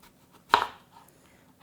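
A kitchen knife chops through an onion on a cutting board for japchae, with one sharp crisp cut followed about a second later by another in a quiet room.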